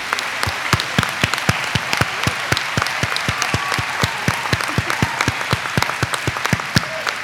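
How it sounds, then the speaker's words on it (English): A commencement audience at an elementary and early childhood education ceremony claps for honor society members, sharp individual claps standing out in a regular rhythm above a softer bed of crowd applause, moderately close. "A round of applause, please."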